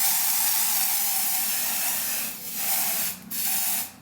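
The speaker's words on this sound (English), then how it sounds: "let's go ahead and put this lace spray on the wig" Lace spray misted onto a glueless pre-plucked wig in a continuous hiss, with brief dips and pauses between bursts, close and steady, no talking.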